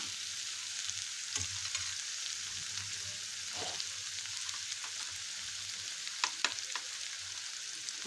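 Spices for chana bhaji sauté in a hot pan, a steady close sizzle with occasional scraping stirs and small crackles, no voices.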